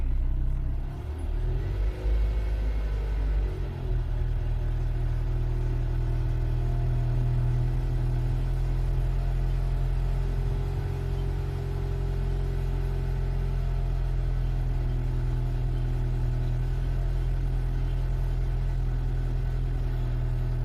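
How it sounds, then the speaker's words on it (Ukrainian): A Mitsubishi Colt petrol engine fitted with a gas system idles steadily after starting, a constant low hum and rumble that holds unchanged throughout with no voices. "пробуем завести и переключиться на газ."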